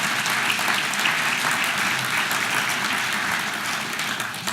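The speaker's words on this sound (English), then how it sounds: "Nice round of applause." An audience at the 2019 AASHTO Washington Briefing gives a dense, steady round of applause that stays loud and continuous throughout, with no pauses.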